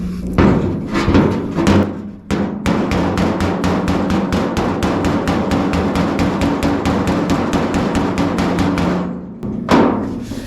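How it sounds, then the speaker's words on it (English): A hammer beats against a dolly on a car body dent in a fast, steady series of loud metallic blows, close by and running for several seconds with brief pauses at the start and end. "I'm holding this metal up as I'm beating that down"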